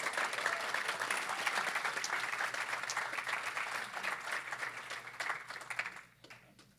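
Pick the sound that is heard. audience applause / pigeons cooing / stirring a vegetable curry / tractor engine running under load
audience applause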